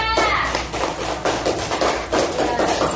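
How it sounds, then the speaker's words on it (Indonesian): A classroom group claps for a student group after its presentation, a dense burst of close, overlapping applause with uneven swells, with no speech over it. "tepuk tangan untuk kelompok 2"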